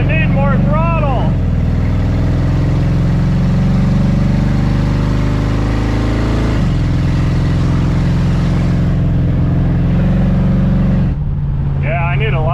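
A 1966 Pontiac 2+2 convertible's 421 V8 runs loud and close, its throttle only partly opening, holding a rough idle with a couple of shifts in pitch before cutting off abruptly near the end.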